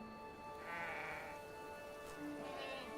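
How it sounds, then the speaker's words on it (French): A sheep bleats in a video game trailer, a few wavering cries over a faint, steady backdrop of music. "Mouton!"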